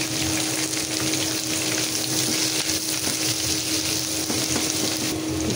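Dried red chilies and onions frying in hot oil, a loud, dense, continuous sizzle close up with faint stirring underneath and no talk.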